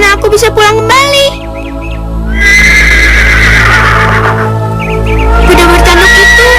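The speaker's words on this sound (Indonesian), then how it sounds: "Kuda bertanduk itu, aku harus menemukannya." A horned horse neighs loudly in a magical forest setting, with long whinnying calls over a steady low musical drone and high chirping bird-like tones, several whinny bursts in succession.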